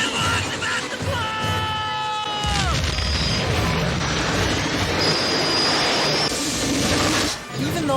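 Steam locomotive shoving the DeLorean along the rails in a Back to the Future film scene: loud, dense rumble and clatter with shrill whistle-like tones sliding downward early on, then sustained high hissing and pounding throughout, with a voice shouting briefly.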